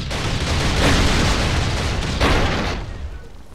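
Two heavy, rumbling explosives blasting a rock wall in the video game Last Island of Survival roll out back to back, booming and crackling loudly before fading into a dull rumble.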